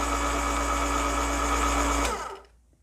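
The motor of a Frankford Arsenal Platinum case trim and prep center runs with a loud, even electric whine and hum, then spins down and fades out near the end.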